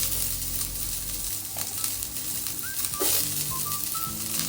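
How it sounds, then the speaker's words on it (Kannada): Chopped onion dropped into hot oil and frying in a pan for lemon rice, a soft steady sizzle with light stirring and a few faint tonal beeps, no voices. "ಇವಾಗ ಕಟ್ ಮಾಡಿರುವಂತಹ ಆನಿಯನ್ ಹಾಕ್ತಾ ಇದ್ದೇನೆ"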